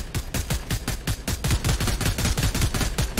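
Rapid bursts of gunfire in the Blackout battle royale video game, a fast run of loud, sharp shots spaced tightly across the whole stretch with no talk over them.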